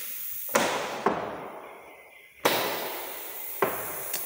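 A pneumatic cylinder valve releases air pressure in several sharp bursts, each a sudden hiss-like blast that quickly fades, heard close with no talk.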